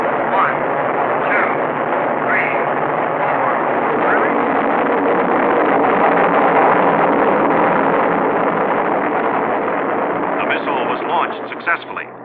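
Convair Atlas ICBM rocket engine ignition and launch, a continuous heavy roar that stays loud and steady throughout, with crackling texture, while a countdown voice calls out over it.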